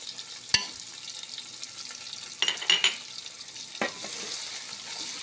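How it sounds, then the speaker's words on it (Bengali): Chalta pickle with chili powder, coriander powder and mustard paste stirred in a pan, giving a soft frying sizzle with a few sharp scrapes and clinks of the spoon against the pan. "সব কিছু দিয়ে এইভাবে নাড়তে হবে।"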